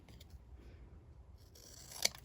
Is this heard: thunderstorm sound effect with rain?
no